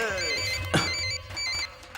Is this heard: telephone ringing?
yes